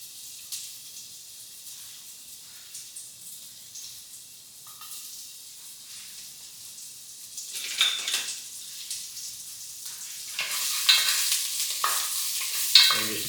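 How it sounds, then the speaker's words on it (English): Ginger and garlic tossed into a hot pan with browned ribs, a soft steady sizzle that builds as utensils stir and scrape, with a few light metallic clinks near the end. "we're going to go in ahead and toss in the ginger and the garlic"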